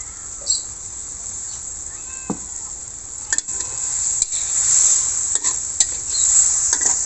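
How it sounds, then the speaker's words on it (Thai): Shrimp stir-fry with oyster sauce and a splash of added water hisses steadily in a pan, with scattered utensil clinks and scrapes growing busier toward the end; a cat meows briefly near the start. "ก็ผัดต่อเลยค่ะ"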